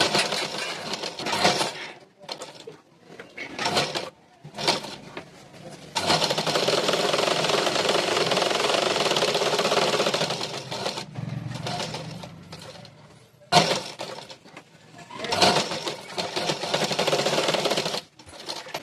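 A sewing machine stitches a collar blouse in a long continuous run and several shorter bursts, interrupted by pauses where someone talks.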